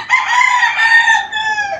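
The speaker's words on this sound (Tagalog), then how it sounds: "Mga magandang klase din po mga manok." A gamecock rooster crows loudly and close by, one long drawn-out cock-a-doodle-doo call that fills nearly two seconds, with no voices over it.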